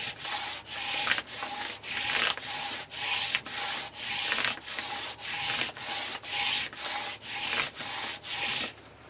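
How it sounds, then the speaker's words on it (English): A block rubbed back and forth over a folded knife-sharpening surface, about fourteen steady rasping strokes in an even rhythm, close and fairly loud with short gaps between passes, no voices. "you take this block and you just rub this block over it"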